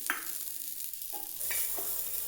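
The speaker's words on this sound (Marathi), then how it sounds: "आता दांड्या आपण घेऊयात भाजून।" Chamkura leaf stalks roast on a hot tava with a soft, faint sizzle. A few light scraping stirs can be heard, and the hiss thickens partway through.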